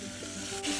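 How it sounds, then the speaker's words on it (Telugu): Frozen beans cook in hot oil in a pan, giving a brief, soft, even sizzle with faint stirring scrapes, close by and without talk. "ఇవి ఫ్రోజన్ బీన్స్ కదా, సో ఆయిల్లో మగ్గితేనే కొంచెం టేస్ట్ బాగుంటుంది."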